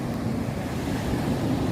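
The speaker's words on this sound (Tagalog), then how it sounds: "Ang lakas ng alon, oh." Heavy surf roars continuously with a low, rough rush of water and wind buffeting the microphone; no voices.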